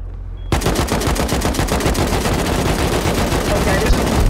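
Sustained automatic gunfire in the survival game Rust, a loud, dense stream of rapid shots starting abruptly after a brief quiet moment and continuing without pause.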